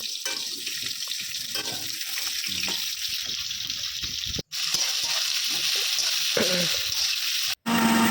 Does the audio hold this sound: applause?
no